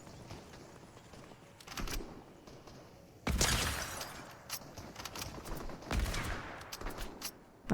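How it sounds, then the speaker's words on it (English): Bursts of gunfire in the video game Fortnite crackle at mid distance, with sharp clusters of shots separated by short pauses and no talking. "A lot of shooting near me."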